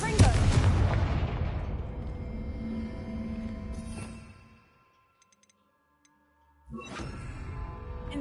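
Confringo blasting-spell explosions in the Hogwarts Legacy video game: a loud burst that rumbles and decays over several seconds, a near-silent gap, then another sharp blast with crackling debris.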